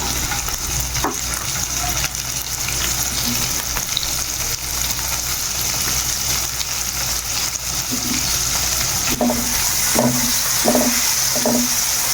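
Chopped tomatoes sizzle loudly in a frying pan for a shakshuka-style egg and tomato dish, a constant hissing fry punctuated by several stirring clinks and scrapes toward the end.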